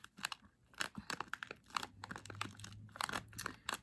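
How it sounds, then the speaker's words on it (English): Light, crunchy hazelnut-filled puff pastry snack being bitten and chewed up close, with rapid dry crackling crunches in bursts, quiet and intimate with no talking. "But not soft. It's pretty crunchy"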